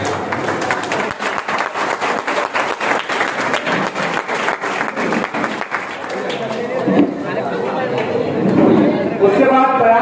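Loud applause from a crowd at a community meeting, dense rapid clapping that carries on and then gives way to chatter and a voice over a speaker system.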